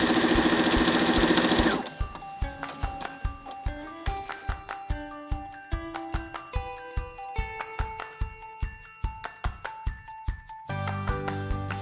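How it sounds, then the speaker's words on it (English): A sewing machine stitching a pillowcase, a fast whirring run followed by a slower, evenly spaced series of mechanical needle thumps, close and loud, ending in another quick run. "and then keep sewing."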